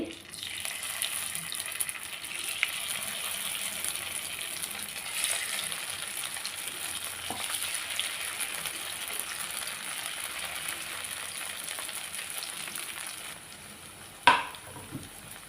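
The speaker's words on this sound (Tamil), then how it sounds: "எண்ணெய் நல்லா காஞ்சிருச்சு. அடுப்பை குறைச்சி வச்சுட்டு நம்ம வந்து வெண்டைக்காயை ஒன்றா சேர்த்துடலாம்" Okra fries in hot groundnut oil on a lowered flame, a steady hissing sizzle with faint stirring, ending in a sharp clank of a utensil near the end; no one speaks.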